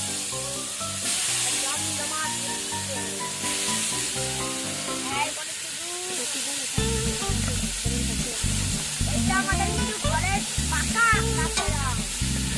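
Mango chutney cooks in a pan at an outdoor picnic with a continuous close sizzle and stirring hiss, while voices talk nearby.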